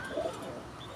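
Pet pigeons coo softly in a short, continuous burst, murmuring close by against a faint background hiss.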